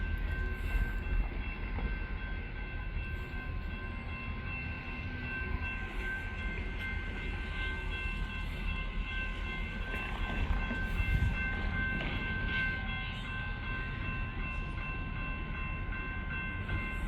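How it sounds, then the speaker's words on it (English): A very large AT&SF freight train rumbles through a rail yard in downtown Ardmore, Oklahoma, giving a steady, fairly distant low roar with faint wheel noise and no talking. "I'll tell you how enormous this train is."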